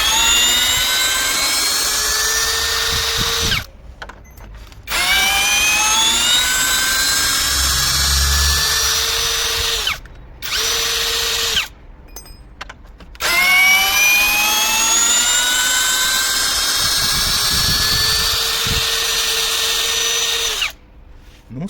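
A Grosser GCD 520Q cordless drill driver backs out an 8x100 screw, whining loudly with rising, straining pitch in several long runs separated by brief stops, close up with no talking.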